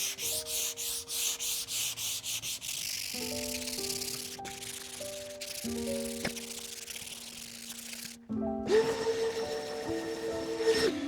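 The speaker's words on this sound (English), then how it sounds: "go in with a 220 and do it hand sanding" Rhythmic scratchy rubbing of 220-grit sandpaper by hand on a mid-century modern wooden desk, steady back-and-forth strokes with faint musical tones underneath, close and moderately loud.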